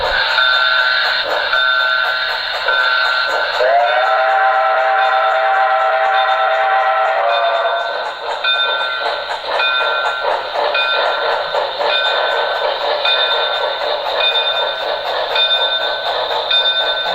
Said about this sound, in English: and Parker would have to leave the MOVRC to board the Chessie Steam Special for their trip home